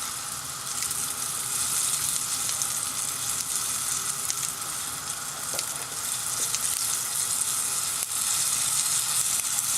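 Chocolate strawberry spring rolls fry in a pan of oil, giving a loud, dense sizzle that holds steady for about ten seconds, close up and without talk.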